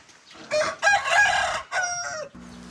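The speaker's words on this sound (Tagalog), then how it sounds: "Nasaan yung puting manok?" Chickens cluck inside a coop while a rooster crows nearby, the calls loud and close and coming in a few bursts, then a short low sound follows at the end.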